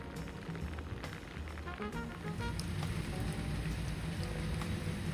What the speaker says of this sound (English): And of course, it is starting to rain.